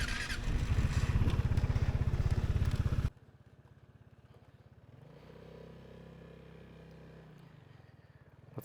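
A Vespa GTS 300 scooter is ridden, with a loud, close engine drone for about three seconds that then drops to a quieter steady hum with a faint rising tone.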